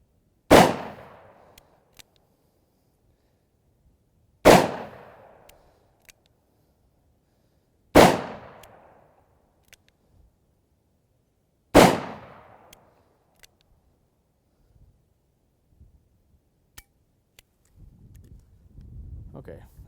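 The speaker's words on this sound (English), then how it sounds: "Okay, that was 6 shots." Smith & Wesson 686 .357 Magnum revolver fired on a range: four loud, sharp shots spaced about four seconds apart, each followed by a short decaying echo, then faint rustling near the end.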